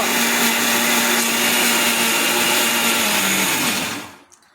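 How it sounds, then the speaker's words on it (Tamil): A mixer grinder whirs steadily as it blends coconut chutney in a small jar, a loud continuous motor drone that winds down and cuts off near the end. "ரொம்ப நேரம் அரைக்க வேண்டியதில்லை, சின்ன ஜார் தானே, கொஞ்சம் ஒரு நிமிஷம் அரைச்சா போதும்"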